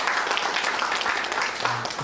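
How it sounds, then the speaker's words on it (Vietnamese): Warm applause from an audience at an evening live cổ nhạc (Vietnamese traditional music) performance, a steady, dense patter of many hands clapping throughout, moderately loud and close. "Xin tất cả quý vị hãy dành cho hai em một tràng pháo tay nồng nhiệt"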